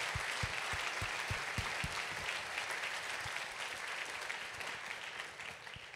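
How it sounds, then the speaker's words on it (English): Steady applause from a conference audience at a food waste summit, thanking sponsors; dense, even clapping fills the whole stretch at a moderate, somewhat distant level with a few sharper low thumps near the start. "please join me in giving them a huge round of applause"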